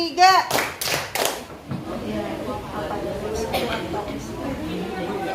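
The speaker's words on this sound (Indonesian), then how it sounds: "Tepuk tangan 3." A school class claps hands together three times in quick loud unison, then children's chatter and classroom murmur continue underneath.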